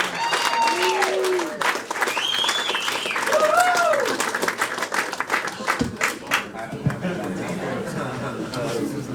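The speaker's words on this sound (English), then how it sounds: "let's get another big round of applause" Studio audience applause and clapping for a podcast host fill the space as a dense crackle, with voices shouting and whooping over the start and chatter continuing as the clapping goes on.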